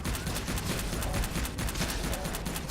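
Grenades go off in the Subterrain video game, a dense continuous barrage of overlapping blasts and crackling bursts with no clear gaps, loud and close throughout.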